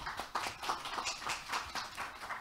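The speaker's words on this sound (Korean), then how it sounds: "모두 큰 박수로 맞이해 주시기 바랍니다" Applause from a conference audience welcoming a session chair at an academic symposium, a steady patter of many hands clapping at moderate volume, with no talk over it.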